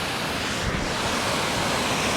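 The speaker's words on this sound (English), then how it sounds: "We're at the headwaters of Salmon Falls." Rushing water at the headwaters of Salmon Falls, a steady broadband roar with no break across the short stretch, loud and close, with some wind or rain noise mixed in and no talking.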